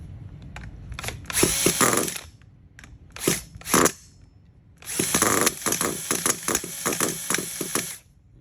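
Hobao Hyper SS nitro RC truggy engine cranking with its throttle slightly cracked: several loud, rough buzzing bursts of a second or so each, near and harsh, with short gaps between attempts and no steady idle catching.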